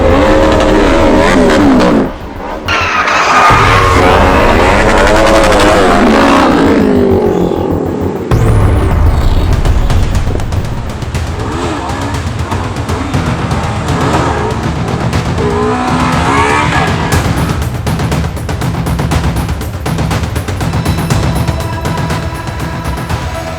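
A motorcycle engine revs hard and roars past at speed, loud and continuous, with shifting pitch and a brief tire squeal.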